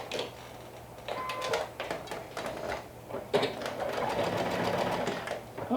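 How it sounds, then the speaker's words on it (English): A home sewing machine stitches the side seam of a dress sleeve at half-inch allowance, its motor whirring in steady runs with rapid needle clatter, briefly pausing then resuming, close and moderately loud. "along the side seam of the sleeve we're going to stitch with a"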